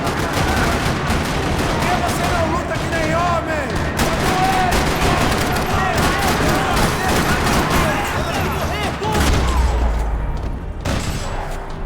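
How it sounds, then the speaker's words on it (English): Dense gunfire rattles through a parking lot in Max Payne 3, rapid overlapping automatic bursts and single shots forming a loud, continuous barrage with a low rumble beneath. "Another parking lot rattling with gunfire."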